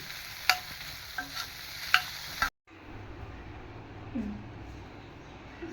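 Raw tomato is sautéed and stirred in a pan for a tomato rice mix. Scraping stir strokes and a soft, close sizzle are followed by a brief cut, then a quieter, steady frying hiss.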